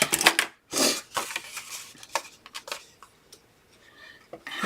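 Scissors snipping through acetate or paper for a Kit Kat bunny window box, a few quick close crisp cuts and rustles scattered across the moment, fairly quiet.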